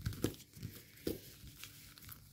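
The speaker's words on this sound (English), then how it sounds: "Fold the layer over, grab this layer," Paper layers are folded and creased while making an origami fighter jet, producing soft, close crinkles and a few sharper rustling snaps at irregular intervals.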